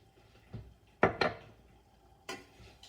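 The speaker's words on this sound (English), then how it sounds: "You just want to take your spoon and kind of mash down the sugar, the coconut oil here" A spoon clanks and scrapes in a pan, mashing sugar and coconut oil as it melts for homemade granola. There are a few sharp metallic knocks with quiet pauses between them, close and fairly soft.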